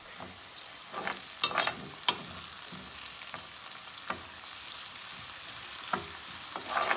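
Pepper and green onion are stirred in a cooking pot with okra and smoked fish, producing a soft sizzle under intermittent scraping and clanking spoon strokes, fairly quiet and close.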